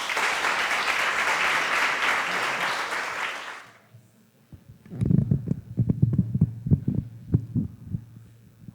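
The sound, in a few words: big round of applause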